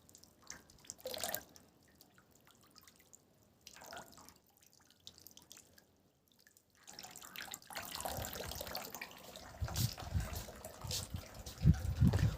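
Tap water runs and splashes as fresh coriander is washed under a faucet, starting with faint intermittent drips and trickles, then turning into a steady louder stream with splashing toward the end.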